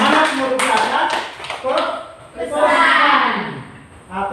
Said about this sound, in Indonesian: Iya, bagus sekali. Tepuk tangan dulu.